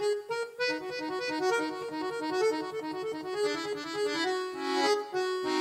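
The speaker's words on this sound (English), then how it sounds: "It's an accordion." An accordion plays a lively tune of quick, bright reedy chords over a steady bass pattern, close and alone.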